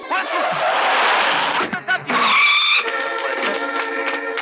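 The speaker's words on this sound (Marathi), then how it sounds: "अरे आणखी फास्ट आणखी अरे आणखी फास्ट आणखी बाळ्या अरे जाणार नाही गाडीमध्ये फॉल्ट वाटतोय" A car driven fast skids with a long tire squeal and rushing engine noise, ending in a sharp high screech, with a shout briefly heard over it, from a 1990 Marathi comedy film.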